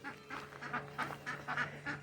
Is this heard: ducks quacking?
yes